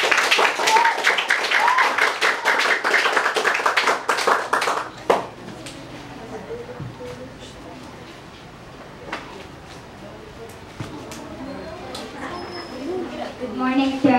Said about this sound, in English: Can we give her a reverberating round of applause?